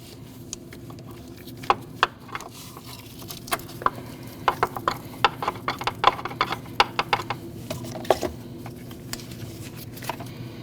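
A ratchet snugs a 10mm bracket bolt on a 2014–2023 Jeep Cherokee during transmission oil pan replacement, giving a run of quick close metallic clicks in irregular bursts over a low background hum.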